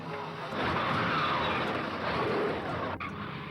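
The Beast, a 1960s car fitted with a 27-litre aircraft engine, roars loudly and continuously at close range, its broad engine noise swelling and holding steady with a brief dip near the end.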